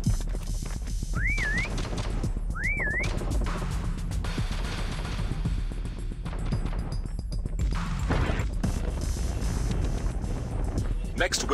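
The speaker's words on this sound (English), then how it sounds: "Next whistle in 10 seconds." Two short rising-and-falling whistle chirps come from a prop in the Call of Duty prop hunt mode, about a second and a half apart, over steady game noise with crashes and gunfire.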